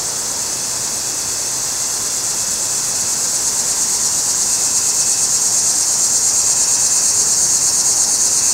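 Crickets chirp in a dense, loud, continuous high-pitched chorus outdoors beside a mutant-petal Nicotiana sylvestris tobacco plant in an organic garden, steady throughout with no voices.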